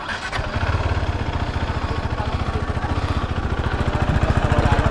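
A KTM big bike motorcycle with stock exhaust runs steadily on a test ride, its engine giving a close, even, pulsing drone that climbs slightly in pitch and loudness toward the end.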